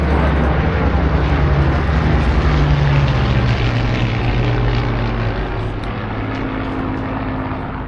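A propeller-driven aircraft, a former Royal Navy plane, flies past at the 2025 Eastbourne Airshow, its loud, steady engine drone filling the whole stretch and easing only slightly toward the end.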